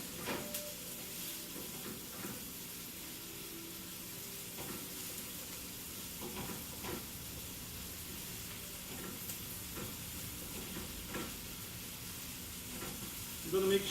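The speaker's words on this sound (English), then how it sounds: "You're going to make sure that onions get caramelized" Onions caramelize in a pan for a Thanksgiving meal, a soft, continuous sizzle and hiss with faint stirring clicks, fairly quiet and steady, with a little voice in the background.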